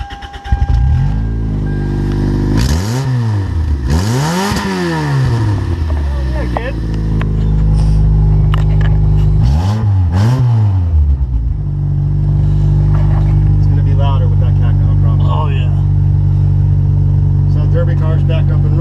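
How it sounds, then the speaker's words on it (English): A loud demolition derby car engine with its exhaust cut off idles and revs hard in repeated surges, with a rough rumbling exhaust, then settles into a steady growling idle. "Derby car's back up and running."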